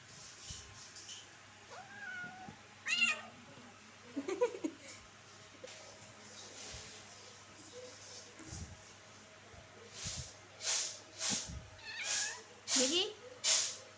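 A cat dressed in a homemade shirt gives several meows, some drawn out and whiny, amid soft household background noise, with people talking and laughing nearby.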